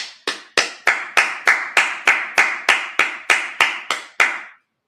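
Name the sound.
congregation clapping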